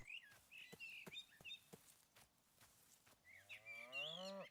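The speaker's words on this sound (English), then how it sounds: "I think it's a cow." A cow in the video game Rising World gives one low, drawn-out moo that rises and fades near the end, after scattered short clicks and faint bird chirps.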